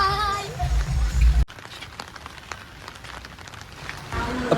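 Light rain falling during a walk in Kerala, a soft steady patter of drops on surfaces, preceded and followed by brief louder handling noise and a voice at the start.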